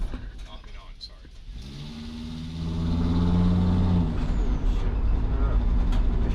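A 2006 Sprinter van's engine revs up on the gas, climbing to a sustained loud rising whine before easing off, with voices talking near the start.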